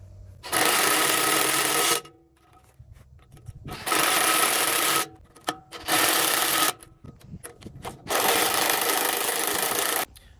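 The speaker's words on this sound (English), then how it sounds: "we're just going to tighten up the 4 bolts" A power tool runs in four separate buzzing bursts of one to two seconds each, close and fairly loud with quiet gaps between, as nuts are tightened onto the flywheel knife bolts of a WoodMaxx WM-series PTO wood chipper.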